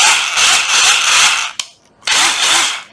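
Running in reverse, a cordless drill gives two close, loud whirring bursts separated by a short pause, with a slight ratcheting edge and no voices.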